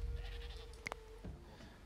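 A single faint sheep bleat from livestock in the prehistoric survival game Dawn of Man, a short wavering call over quiet ambient game background, no talking.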